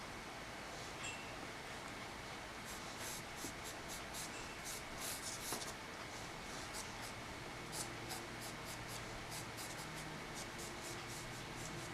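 Charcoal pencil sketching the outline of a dog on paper, a faint continuous scratchy rubbing with short repeated strokes, close and quiet against a soft hiss.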